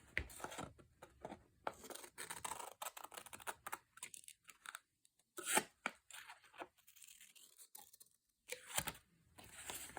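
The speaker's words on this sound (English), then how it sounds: "cut the last flap off" Scissors cut the last flap off a paper envelope in a string of close, dry snips and paper rustles, with short pauses between bursts.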